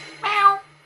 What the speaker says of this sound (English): There's a cat lying there.